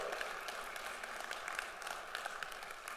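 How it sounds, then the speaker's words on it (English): A college convocation audience applauds, a steady wash of many hands clapping at moderate distance, fairly faint throughout. "Round of applause for that."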